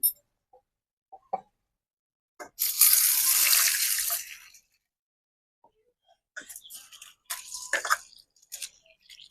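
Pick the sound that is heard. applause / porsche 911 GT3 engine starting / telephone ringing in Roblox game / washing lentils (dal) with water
washing lentils (dal) with water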